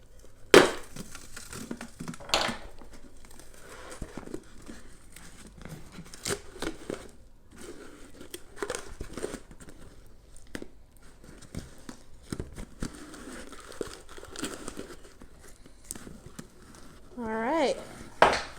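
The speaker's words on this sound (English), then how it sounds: "And I'm going to stab it with a fork." A fork stabbing into a dried paper mache Easter egg, giving scattered sharp crunches and cracks of breaking paper shell, with a few louder hits spread across a mostly quiet stretch.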